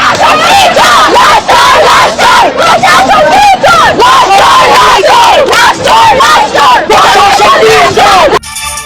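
Students and crowd marching in a street protest against the interim government, chanting slogans in loud rhythmic unison, with repeated shouted phrases carrying close and continuous before a brief drop at the end.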